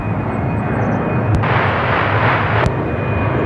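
A Boeing 787 taking off from runway 34 right at Seattle-Tacoma International Airport sends out a loud, close, continuous jet engine roar with a steady high whine, interrupted by two sharp bursts of radio static.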